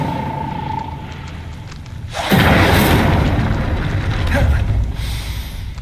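A fire spell, Incendio, is cast in Hogwarts Legacy. A sudden loud whooshing burst of flame erupts, then sustains a roaring crackle for several seconds, with a second swell near the end and no talk.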